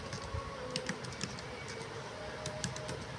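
Computer keyboard keys click in scattered short bursts while commands are entered for a switch configuration, faint and steady under a soft background hum.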